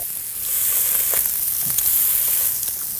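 Sausage patties sizzle and fry on a hot breakfast griddle, a steady close crackling hiss with a few small pops, alone without talk.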